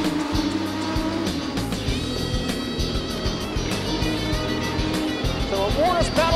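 Sprintcars racing four wide out of the final turn and down the front straightaway, engines roaring loud and continuous with tire squeal, under a commentator's voice.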